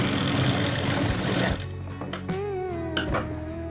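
A sewing machine stitches a plain blouse in a loud, steady, close mechanical whir that eases slightly partway through and keeps running without talk.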